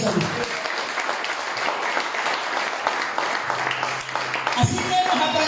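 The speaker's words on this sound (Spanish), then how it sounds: "Denle un fuerte aplauso al Señor." A church congregation applauds throughout a Spanish-language evangelical service, a steady broadband clapping wash with faint talk beneath it.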